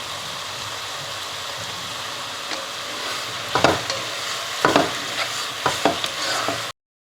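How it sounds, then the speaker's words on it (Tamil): Onions sauté in a pan for chicken biryani, a continuous sizzle broken by several sharp scraping stirs of a utensil in the second half, close and fairly loud, with no talking. "நல்லா ப்ரௌன் ஆகுற வரைக்கும் அதை நல்லா வதக்கணும்."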